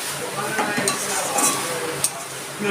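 Rohu fish fries in hot oil while being stirred in a pan: a constant close sizzle with scraping stirs and one sharp utensil knock near the end.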